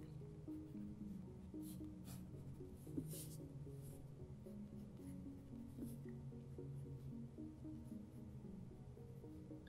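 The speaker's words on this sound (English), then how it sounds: "I'm gonna use the actual pencil and not this light brown one." Faint, steady scratching of a graphite pencil sketching across sketchbook paper, soft strokes repeating close up with a quiet room hum beneath.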